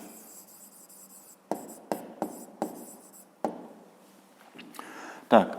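Handwritten notes on paper, heard as a soft steady scratch of pen or pencil broken by several sharp taps and strokes, close and fairly quiet, with a brief louder rustle at the end.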